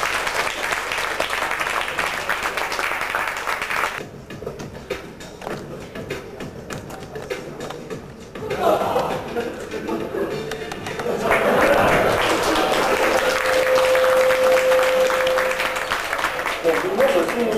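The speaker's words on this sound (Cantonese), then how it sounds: "大家一定要俾掌聲，為佢勇氣而俾掌聲鼓勵下佢啦" Audience at a university magic night in 1999 applauding a masked magician, a broad wash of clapping that dips midway, then swells back loud and sustained, with a steady tone ringing through near the end.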